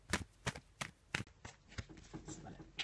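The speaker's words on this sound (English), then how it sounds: "Just put it down, have a little shuffle and put down a card from the Faulkner Tarot deck." Cards from a Faulkner Tarot deck being shuffled by hand, heard close up as a quick series of crisp, papery riffles and slaps in a quiet room.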